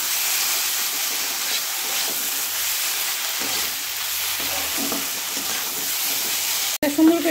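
Shrimp frying in a pan with spices, for a shrimp dish cooked with jackfruit seeds, gives a steady loud sizzle and hiss with stirring scrapes throughout, broken by a brief clatter near the end.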